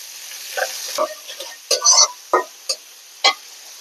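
Chopped onion and green chili hit hot oil in a wok, giving scattered sizzling bursts and a few sharp stirring clanks over a quiet background.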